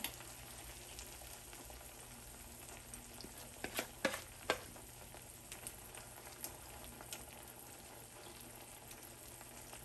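Cauliflower handvo batter cooks in a pan over a low flame with a faint, steady sizzle, and a few soft scraping clatters come around the middle.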